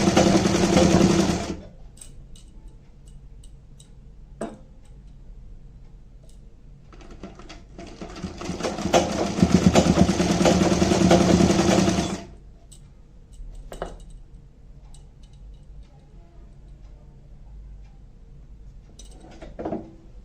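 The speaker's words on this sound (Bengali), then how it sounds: "যে আমি সমান করে সেলাই করে নিচ্ছি।" A sewing machine stitches a gharara in two long runs, a loud burst at the start and a sustained stretch in the middle, with quiet pauses and a few faint clicks of fabric handling between them.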